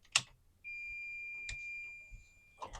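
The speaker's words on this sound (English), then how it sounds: "You will hear a beep," A single steady, high-pitched electronic beep from a Bluetti B300K battery being disconnected from an AC300 system sounds for about two seconds, framed by a few faint clicks and handling noises.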